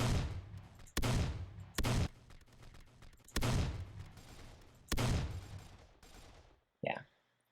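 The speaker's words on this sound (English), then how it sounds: "this is a semi-automatic rifle" Semi-automatic rifle fired in the video game Red Crucible, five loud single shots at uneven intervals, each followed by a long decaying echo, then a brief different effect at the end.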